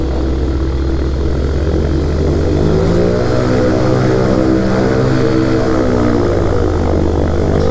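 A light propeller aircraft backtracks along a runway, its engine giving a loud, steady, close droning hum with a buzzing propeller beat that holds without a break for nearly eight seconds, with no voices.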